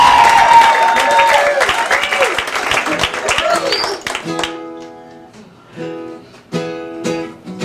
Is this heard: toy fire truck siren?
no